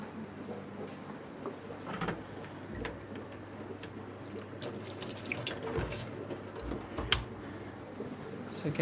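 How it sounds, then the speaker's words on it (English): Water draining and refilling fish tanks in a fish room, a steady faucet-like trickle and splashing with occasional drips and clunks, moderately near, with background sounds throughout. "keep draining with just normal water"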